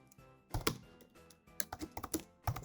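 Keys clacking on a computer keyboard as a greeting message is typed into a chatbot, coming in irregular bursts of close, crisp taps with brief pauses between them.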